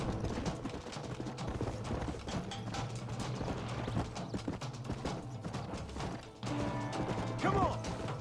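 Horse galloping in the video game Red Dead Redemption, a steady clip-clop of hooves running continuously under dense game sound with mechanical clatter, loud and close throughout.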